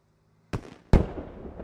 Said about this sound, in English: They ate a frag rocket.